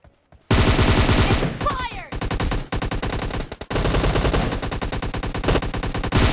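Loud, rapid automatic gunfire from PUBG Mobile fills the clip in dense bursts, with short gaps between volleys and a couple of near shots after a brief silent start.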